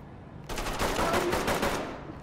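Gunfire in the tactical shooter Ready or Not: one loud, close burst of rapid automatic shots lasting a little over a second, then fading into the ambience.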